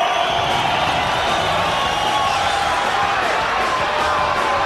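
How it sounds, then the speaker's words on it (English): A loud crowd at a fight card roars and cheers, with whoops in the mix, as a street fighter is introduced before a bout at a casino; a dense, steady wall of noise with no break. "the crowd cheering for Charles Crazy Horse Bennett"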